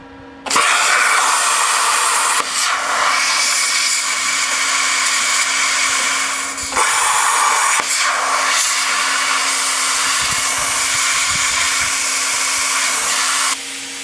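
A plasma cutter cuts a metal picture with a loud, steady hiss and hum that starts abruptly, runs continuously with a brief dip midway, and stops near the end.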